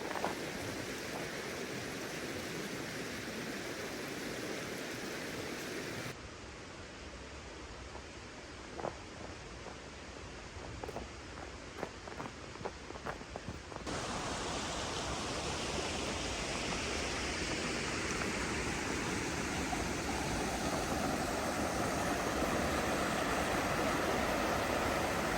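Waterfalls pour through snowy woods in a steady broadband rush, loud and continuous, easing to a softer flow with some splashes midway before the full roar returns, with no voices.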